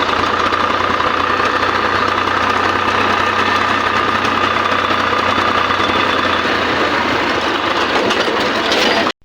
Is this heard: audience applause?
no